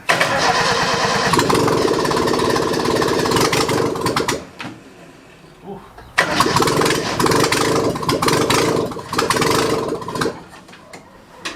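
The engine of a 1977 F10 cranks and catches, then runs roughly and loud up close. It cuts out for a couple of seconds, then fires again and runs before dying away at the end.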